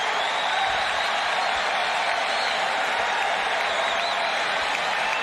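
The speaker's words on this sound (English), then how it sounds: "this Arthur Ashe Stadium crowd coming to life, finally" A large crowd applauding at Arthur Ashe Stadium during a US Open tennis semifinal, a steady sustained wash of clapping that stays even and full throughout, with no talk over it.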